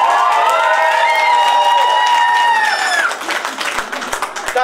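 Louder applause from a party crowd builds under a sustained singing or musical tone, then dense clapping continues alone with several sharp individual claps standing out near the close.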